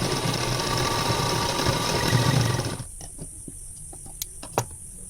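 Sewing machine stitching a seam on a silk blouse with three-thread stitching and a half-inch margin, a steady loud mechanical whir for about three seconds that stops abruptly, followed by a few faint clicks and taps.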